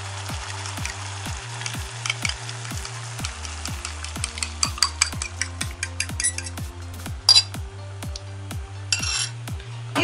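Young zucchini with squeezed garlic sizzling in a frying pan, a steady crackling fry with regular clinks of a utensil against the pan and a few sharper clatters, close and no talk.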